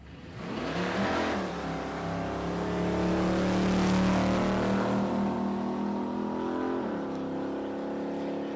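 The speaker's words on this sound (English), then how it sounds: "Jammed on the throttle. They spun the tyre a little bit, but all good." A drag racing car launches and accelerates down the strip on a Palmyra Dragway test day, its tyre spinning slightly. A loud, close engine roar swells and holds steady as it pulls away, with no talk over it.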